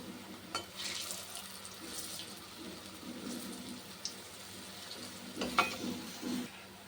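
Raw banana slices frying in hot oil in a wok, a soft continuous hiss and sizzle with occasional louder crackles and a few clinks near the end, close and fairly quiet.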